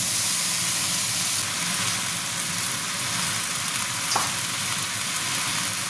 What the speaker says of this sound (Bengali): এবার নাড়া দিয়ে দেবো